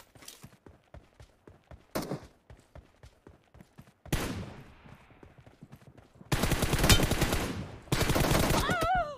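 Gunfire in the mobile game Battlegrounds Mobile India, during a one-on-one team deathmatch. Single sharp shots come first, then heavy bursts of automatic fire that grow louder toward the end, with no talking.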